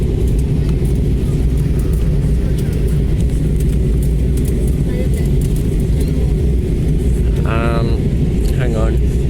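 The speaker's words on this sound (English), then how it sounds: "I think we're landing on the eastern short runway" Inside an airliner landing at Perth after an Adelaide flight, a loud, steady cabin roar of engines and airflow fills the space, with light rattles and a brief tonal sound near the end.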